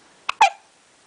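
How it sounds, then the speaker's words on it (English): A baby hiccups twice in quick succession, close and fairly loud, with quiet room tone in between. "Got the hiccups."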